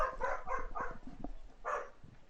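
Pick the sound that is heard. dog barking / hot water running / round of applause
dog barking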